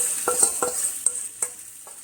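Marinated soy chili garlic chicken pieces frying in a pan on high flame, a continuous hiss with several sharp stirring clicks and scrapes at irregular intervals, close and alone without talk.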